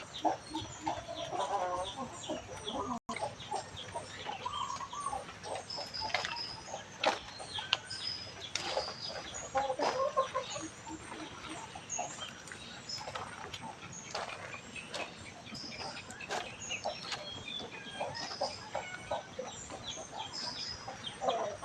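Chicks and hens clucking and peeping around a Thai temple yard at dusk after wind and rain, soft scattered calls over a quiet, steady background hiss.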